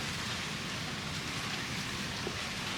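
Steady rain falls during a thunderstorm, producing an even, continuous hiss of moderate loudness with no voices over it.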